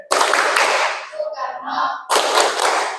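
Rhythmic group clapping chant at an Indonesian Pancasila civics session, two bursts of dense, loud clapping from a crowd separated by a short gap where a voice chants.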